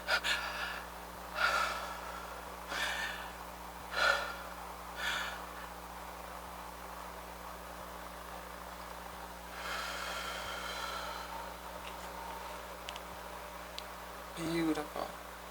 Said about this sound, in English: Manage your belly breathing.